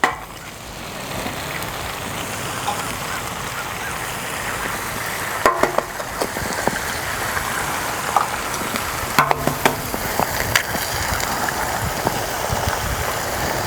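Three eggs cracked one after another onto a hot buttered Blackstone griddle for backyard hibachi, with a couple of sharp taps and clicks over a steady, loud sizzle of frying.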